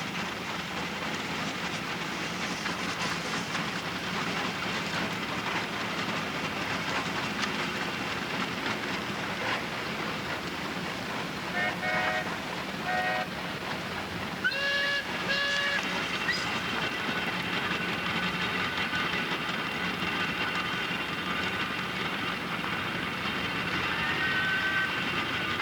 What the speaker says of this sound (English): This engine is a Frick double-cylinder steam engine.